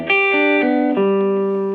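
An electric guitar on its bridge pickup rings out a few bright, sustained notes in quick succession, close and clear with a trace of effects and reverb, no voices.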